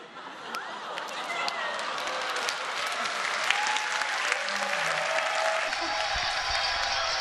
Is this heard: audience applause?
yes